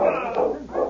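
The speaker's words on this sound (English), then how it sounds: "there's a dog team coming into town from the east" Sled dog team arriving in a snowy frontier town, dogs whimpering and yipping in short high cries close by, alone without talk.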